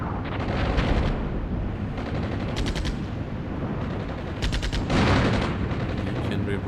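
Artillery barrage in the Cold War tank game Armored Brigade 2, heard as continuous heavy rumbling explosions overlaid with repeated bursts of rapid gunfire in clusters.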